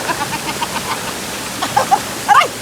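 Steady broadband rush of a waterfall at a scenic falls where people are swimming, continuous and fairly close, with a few brief voices and splashes rising near the end.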